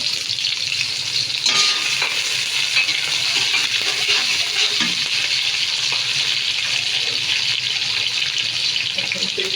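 Five or six sliced onions frying in hot oil, a loud continuous close sizzle with occasional stirring clinks and scrapes throughout.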